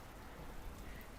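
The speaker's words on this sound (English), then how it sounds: "Raining." Outdoor rain on a gloomy day, a faint, steady wash of patter with no distinct drops standing out, and no voices.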